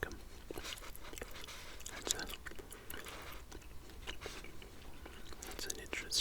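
Close, quiet chewing of PK chewing gum with moist smacking and clicking mouth sounds, steady and intimate, with soft whispering underneath.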